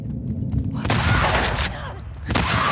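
Gunfire in The Last of Us Part 2 cracks out in a few sharp, loud shots over a low rumbling game ambience, with no one talking.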